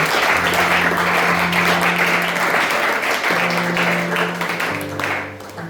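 A church congregation at a Sunday service claps steadily and loudly for the glory of God, a dense sustained applause with a low held musical tone underneath, tapering slightly near the end.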